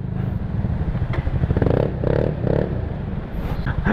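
A Yamaha Mio Sporty scooter engine revs repeatedly in a busy parking area, with steady close idle chatter broken by several short throttle bursts, loud and continuous with no talk.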